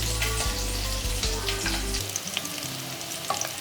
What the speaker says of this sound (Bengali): মাছটা মোটামুটি ভাজা হয়ে গেছে